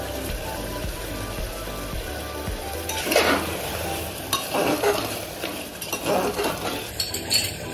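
Mutton trotter curry cooking in a pot on a gas stove as garam masala goes in, with a steady bubbling sizzle under repeated scraping stirs and metal clinks of a spoon against the pan.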